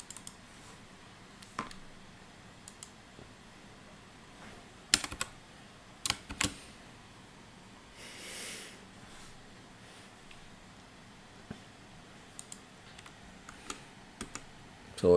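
Sparse computer keyboard typing, a few isolated key taps and short bursts scattered across a quiet room, with a faint brief rustle in the middle and no talking.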